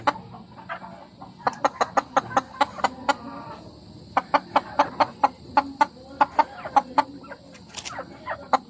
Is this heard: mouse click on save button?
no